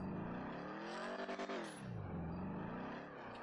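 A Chevy Camaro engine in GTA with the LSPDFR police mod revs hard and close, climbing in pitch, briefly stuttering, then easing down and rising again, loud and alone.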